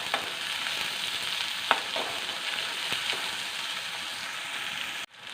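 Green chillies sauté in a pan with a constant close sizzle and a couple of sharp stirring clicks, ending abruptly.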